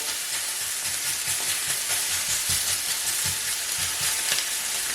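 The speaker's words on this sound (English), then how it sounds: "Let's just chuck that steak on." Steak frying in a hot oiled pan produces a loud, dense, continuous sizzle and hiss close by, with faint low rumbling underneath and no voices.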